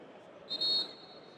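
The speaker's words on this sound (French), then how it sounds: "faute sifflée par Monsieur Lardo" A referee's whistle sounds once during a football friendly, a short shrill blast over a steady crowd and stadium murmur.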